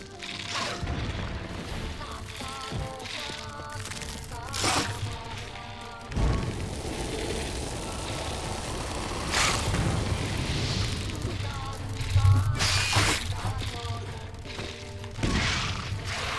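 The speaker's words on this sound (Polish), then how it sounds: "Też sobie inną petardę użyję." Thrown bombs go off during combat in The Witcher 3 on PS5, several booming blasts and crashes spread over a busy fight mix, with some speech-like sounds between them.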